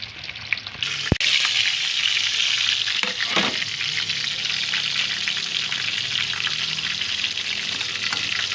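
Flipped chicken pieces fry in hot oil with a loud, dense, continuous crackling sizzle close up, opening with a sharp clatter and a brief scrape, and no voices.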